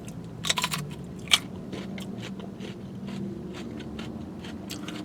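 Crisp crunching bites into fresh red date fruit, several sharp close snaps early on followed by quieter chewing, with no talking.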